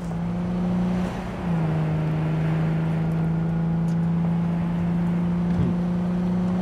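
A car driving in the video game Cyberpunk 2077, with a steady engine drone held at a constant pitch, dipping briefly as a gear shifts, loud and continuous with no voices.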